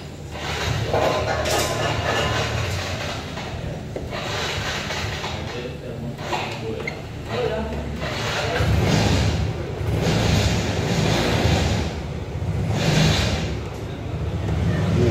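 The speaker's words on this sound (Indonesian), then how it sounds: "Motor nyala, mudah dinyalakan, tapi stasioner hilang." Motorcycle engine running after an easy start but unable to hold a steady idle, its rough drone surging and sagging continuously at close range, with a voice talking over it.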